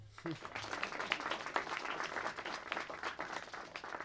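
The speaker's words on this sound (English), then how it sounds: "quick round of applause again" A crowd at T.C. Williams applauds a guest speaker, dense continuous clapping from many hands that holds steady throughout.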